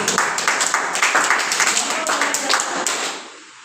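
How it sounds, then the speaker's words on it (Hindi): Indoor audience at a business income presentation claps in rhythmic, fairly near bursts, the steady beat continuing for about three seconds before fading away. "जोरदार तालियां होने चाहिए।"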